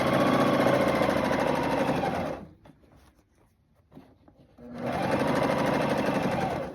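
A sewing machine stitches a jumpsuit in loud, fast continuous runs, pausing for a couple of seconds with faint handling noises before the steady whirring starts again.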